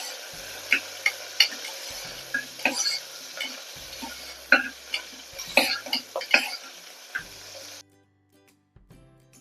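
Shallots and curry leaves sautéing in a pot for chicken kulambu, a bright sizzle broken by repeated spoon scrapes and knocks against the metal, ending abruptly in near silence.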